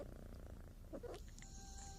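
Young kittens suckling and purring: a soft, steady low rumble of purring runs throughout, faint and close, with a few small squeaky bursts in the middle.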